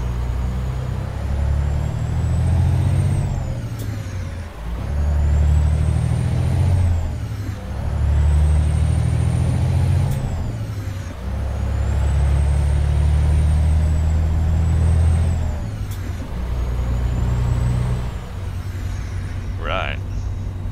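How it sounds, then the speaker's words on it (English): Detroit diesel engine of a Kenworth W900 truck in American Truck Simulator, a steady low rumble that surges and drops in repeated cycles as it revs through gears, with a brief air-brake hiss near the end. "I love the sound of the Detroit diesel."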